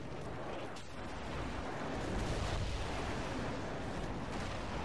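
A grenade goes off in Call of Duty 4 as a deep, rumbling blast that swells and lingers as a broad, noisy roll of battlefield explosions at moderate loudness.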